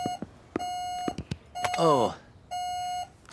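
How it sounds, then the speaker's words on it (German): Smoke detector chirping because its batteries are running low, giving three long steady electronic beeps with gaps between them, close and clear, while a short vocal exclamation sounds in between. "Das ist dein Rauchmelder"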